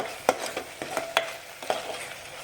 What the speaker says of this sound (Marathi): तेल छान सुटूपर्यंत आपण हा मसाला एक मिनिटभर छान परतून घेऊया